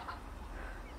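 Soft chicken clucking in a garden blends into a low, steady rumble of outdoor background noise, faint and brief with no clear individual calls standing out.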